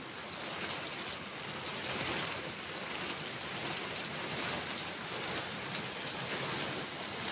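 Evening rain falling outside Beanstop cafe in Patuli, South Kolkata, a steady, even wash of raindrops on surfaces with no talk, soft and constant throughout.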